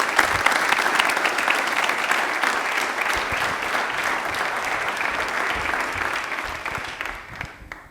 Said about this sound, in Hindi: तनुजा के लिए एक बार तालियां जोरदार हो जाएंगी।